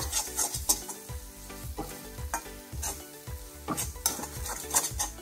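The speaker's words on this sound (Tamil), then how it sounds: "நல்லா கிளறி விட்டுருங்க." Mushroom pallipalayam being stirred with masala in a pan, a spoon scraping and clinking against the metal in a steady rhythm over a soft sizzle, close and fairly loud with no talking.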